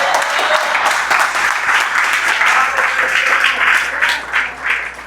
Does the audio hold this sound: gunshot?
no